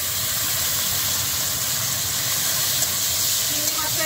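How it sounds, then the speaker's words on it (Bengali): Prawns fry in a pan with a steady, even sizzle and hiss that holds constant throughout, with no change in intensity. "চিংড়ি মাছটা একটু ভেজে নিই।"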